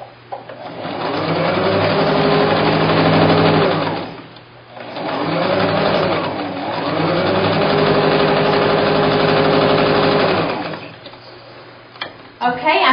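A sewing machine stitches rows of rail fence quilt pieces together in two long, steady runs with a short pause between them, the motor whirring loud and close, then stops near the end.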